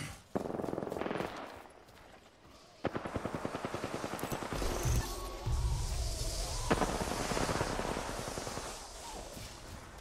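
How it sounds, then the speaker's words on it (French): Apex Legends gunfire plays as rapid automatic bursts in a steady rhythm, loud and close, with sharper single shots and a muffled blast in a busy game mix. "Je suis sous les tirs. J'ouvre le feu."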